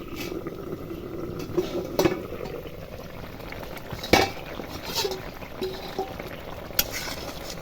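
Papaya and mixed vegetables simmer in water in a pot for Bengali shukto, a steady soft bubbling bed broken by a few faint clinks and pops, with no talking.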